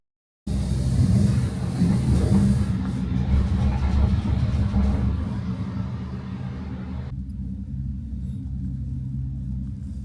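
A cable car climbs a mountain with a loud, continuous low rumble that starts abruptly, then eases slightly and settles into a steadier, duller drone.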